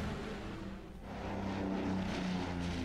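A propeller aircraft engine drones steadily in the naval strategy game Order of Battle as a plane attacks a destroyer, a continuous loud hum that swells slightly toward the end, with no talking.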